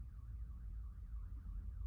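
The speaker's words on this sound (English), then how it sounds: "Even the car alarm agreed." Distant car alarm going off outside, a faint, regularly wavering electronic tone repeating over a low background rumble.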